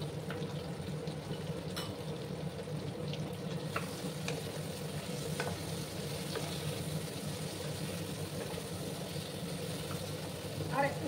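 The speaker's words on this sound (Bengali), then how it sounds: "আমি এটাকে একটু ভেজে নেব" Ground spices fry in a pan for an ilish fish curry with shola kochu, a steady, faint, continuous sizzle with occasional light clicks, running evenly throughout without any talk.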